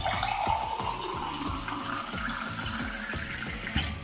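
Water from an RO water purifier poured out and splashing down into a sink or container, a steady continuous flow with rippling gurgles, close and moderately loud, with no voices.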